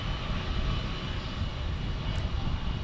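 Boeing 757 jet engine at San Diego International Airport, a steady, loud broadband roar that holds evenly throughout, close by and alone with no talking.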